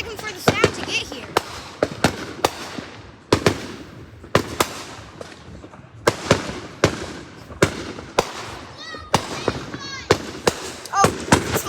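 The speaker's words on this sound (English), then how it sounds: "they explode and then it takes a second for the sound to get here." Distant fireworks explode in a rapid, uneven series of sharp bursts and pops, with quieter voices talking in between.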